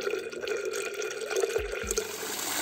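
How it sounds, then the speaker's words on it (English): Water gushes steadily into a makeshift livewell container, a close, continuous splashing fill with a few heavier drips or thuds near the end. "We're going to go ahead and fill this makeshift, like, live well I made in a few seconds."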